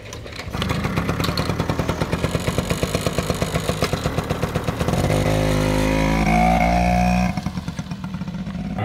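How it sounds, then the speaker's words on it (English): Small pit bike engines chug and rev on a ride up a mountain toward the snow, close and loud with a rapid, pulsing beat. The throttle opens briefly into a higher whine, then settles back to a rhythmic putter. "we're gonna ride up on little pit bikes and try to find a little patch to snowboard on"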